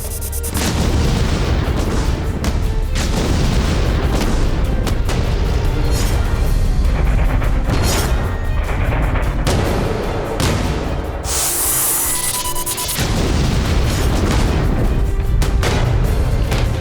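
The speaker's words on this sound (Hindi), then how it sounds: "यूक्रेन पर मिसाइलों की वर्षा शुरू हो गई" Heavy booming blasts of Russian missiles striking Ukraine fill the whole stretch, loud and dense with rumbling impacts and sharp bursts, one after another.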